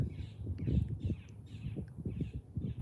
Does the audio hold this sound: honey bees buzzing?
no